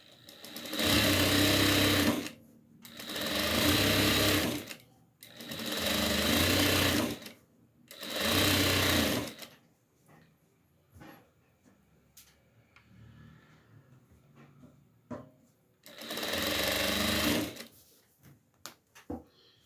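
A sewing machine topstitching a seam on a rag doll's hat runs in five steady bursts of rapid mechanical stitching, each a couple of seconds long, close and fairly loud, with quiet handling clicks and fabric shuffling in the gaps.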